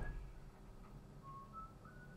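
Faint, distant whistling by a builder indoors, a few thin sustained notes drifting over quiet background hiss.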